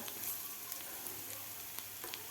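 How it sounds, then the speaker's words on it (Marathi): Chopped onion frying in a pan for a village-style tandulja leaf vegetable dish, a faint, steady sizzle with a few small pops, quiet and without talk. "कांदासुद्धा आपला थोडासा फ्राय झालेला आहे जास्त पण लाल नाही करायचा आपल्याला"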